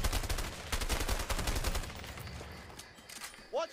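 Rapid bursts of gunfire from the video game A Way Out crackle loudly through the first half, then thin out into scattered distant shots, with a brief burst of voice near the end.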